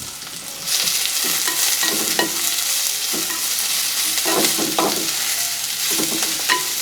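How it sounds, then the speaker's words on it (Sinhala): Garlic and cinnamon bark frying in hot oil in a pan for a Sri Lankan potato curry, giving a steady sizzle with occasional stirring scrapes throughout, close and continuous. "ඉතින් මේක හොඳට තෙලෙන් පොඩ්ඩක් බැදෙන්න ගන්න."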